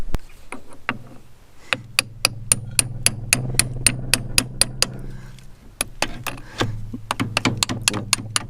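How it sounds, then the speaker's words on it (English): Sharp metallic hammer blows on a part of a vintage forage harvester recovered from a hedgerow, around twenty strikes in a fairly steady rhythm with a short pause midway, close and loud over a low hum. "Right, so we'll take a hammer."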